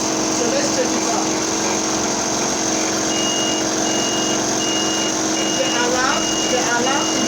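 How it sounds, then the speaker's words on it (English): On connecting the grid line, an automatic three-source power changeover unit sets off a continuous electronic alarm tone, held steady over loud, unbroken background noise. "The alarm indicates that the grid line is on."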